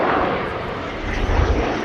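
A Belgian Air Component F-16AM Fighting Falcon jet at a flying display roars past as a loud, steady, broadband rush that swells slightly toward the end.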